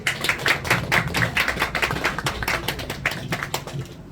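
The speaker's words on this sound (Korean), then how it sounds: "박수 한번 주세요" Applause from an audience at a school opening ceremony for a children's song archive, a steady patter of many hands clapping nearby with no talk over it.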